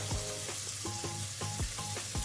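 A knob of butter sizzles loudly and steadily in a hot pan where fish has just been cooked, a dense close hiss with light scraping and tapping of a utensil running through it.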